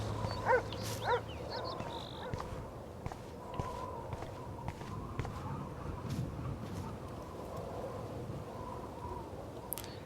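Dog in the Life is Strange video game, heard among faint game ambience and soft footsteps, with a few brief yips and whimpers rather than loud sustained barking.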